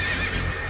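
Horse neighing in one brief, loud, sustained whinny heard alone.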